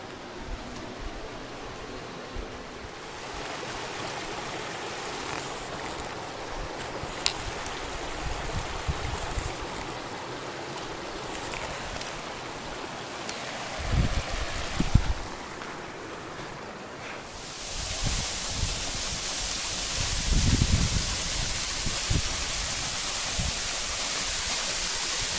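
Waterfall along a forest hiking trail, a constant rushing wash of water that grows louder and brighter partway through, with scattered footstep thumps and handling knocks.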